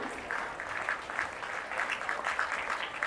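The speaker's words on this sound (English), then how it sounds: "Let us all clap for their energetic performance" At an Independence Day school event, an audience applauds after a class performance with faint, distant clapping in a soft, even patter.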